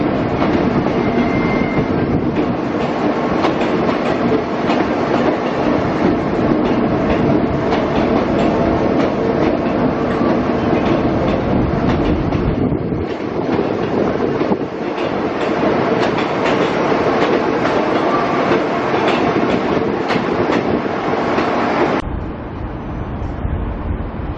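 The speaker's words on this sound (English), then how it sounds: "One of the new NGR or Indian built trains arriving Roma Street" A New Generation Rollingstock (NGR) passenger train rolls steadily along the rails arriving at Roma Street, Brisbane, a continuous loud rumble with rhythmic clacking of wheels, easing slightly near the end.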